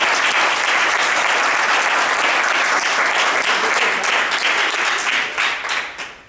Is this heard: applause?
yes